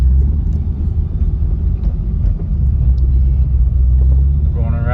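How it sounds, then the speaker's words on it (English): Motorcycles at a rally in Cave Creek, Arizona rumble past in a dense stream, a loud, close, continuous engine drone with passing swells, and a voice talking over it. "Around the corner and it's just solid motorcycles"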